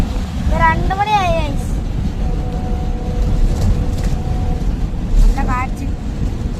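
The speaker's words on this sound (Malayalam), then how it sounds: "നല്ല കാറ്റ്." Strong wind roars on a road trip toward Karnataka, a steady low rumble like air buffeting a moving vehicle that runs throughout, with a voice speaking briefly near the start and again near the end.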